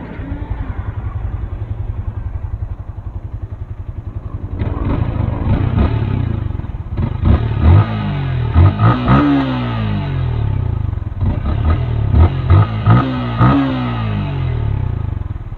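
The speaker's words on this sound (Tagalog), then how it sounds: "So this is the sound of a stock engine of Sniper 155." A stock Yamaha Sniper 155 motorcycle engine idles with a steady close putter, then revs repeatedly in sharp rising bursts, all loud and near.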